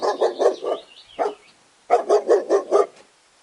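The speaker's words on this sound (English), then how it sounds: "D. D for dog." A dog barks close by in two quick bursts, a run of four sharp barks and a single bark, then a pause and five more in steady rhythm.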